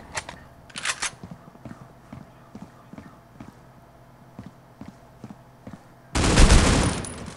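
Video game gunfire breaks out as a loud, dense burst near the end, preceded by faint rhythmic clicks and a couple of short sharp bursts.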